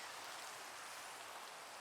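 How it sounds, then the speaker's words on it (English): Steady rain in the Minecraft video game, falling in a snowy mountain area, as an even, soft hiss of continuous patter that stays constant throughout with no other sounds. "And it's raining."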